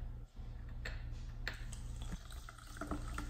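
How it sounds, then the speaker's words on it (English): Essentuki No. 4 mineral water trickles and splashes softly into a glass, faint and close, over a steady low hum. "Let's pour some water in."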